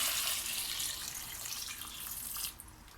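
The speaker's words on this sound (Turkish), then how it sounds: "Şu anda 1 litre su boşaltıyorum." Water pours steadily from a tap or jug into a pot of plums, a continuous splashing rush that stops abruptly near the end.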